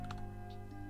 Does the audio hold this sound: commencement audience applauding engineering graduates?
no